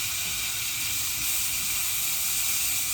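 Jimmy Dean hot sausage frying in a pan, giving a steady, even sizzling hiss throughout as it is stirred, with faint low scraping underneath.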